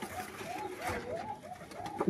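Young Giribaj pigeon chicks coo in a soft, repeating rising-and-falling pattern, several calls in quick succession, close by over a noisy background.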